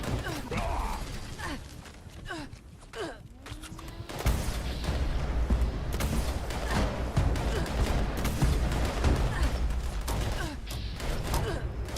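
Gunfire and combat noise from Fallout 76 during a weekly challenge event, bursts of shots and mechanical clatter growing dense and continuous after the first few seconds, with some vocal sounds mixed in.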